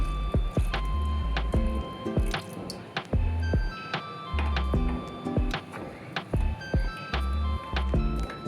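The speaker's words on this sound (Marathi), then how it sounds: "यामध्ये गूळ बुडेल एवढं पाणी घालून घ्यायचं आहे." Water is poured onto jaggery in a kadhai with a series of close squishy glugs and drips, irregular bursts repeating over several seconds, with no talk over them.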